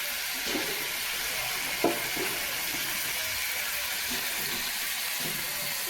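Water pours into spices frying in a pan, made for a sour fish dish with small fish and green mango, giving a steady close hiss and sizzle with a few soft clinks.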